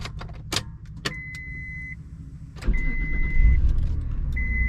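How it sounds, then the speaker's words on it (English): A car is started up, with the jangle of keys in the ignition, a couple of clicks, and then the engine catching and settling into a smooth, quiet idle that carries on steadily. "Go to start the car up."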